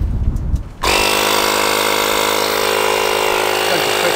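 A portable jump starter's built-in air compressor switches on after a few soft handling noises and then runs with a loud, steady, buzzing drone while inflating a tyre that may have a nail in it.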